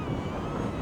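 Strong wind buffets the microphone of a DJI Neo drone in flight in a dense, steady roar with no pauses.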